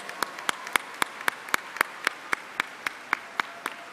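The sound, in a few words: audience applause at convocation ceremony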